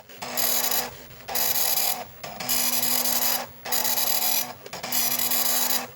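Dot matrix printer running from an MSX computer, loud buzzing print passes in four or five bursts of about a second each, separated by short pauses as the head returns and the paper advances.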